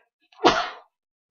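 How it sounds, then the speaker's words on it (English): A single quick sneeze, sharp and close, bursting out of silence and cutting off just as fast. "I'm going to sneeze."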